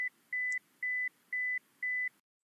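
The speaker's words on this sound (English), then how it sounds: "We will provide the buzzer, and now after beeping the buzzer" Five steady electronic buzzer beeps in an even rhythm, each about a quarter second long, clear and alone, then silence, from a Cook's pole climbing apparatus used in lab drug testing.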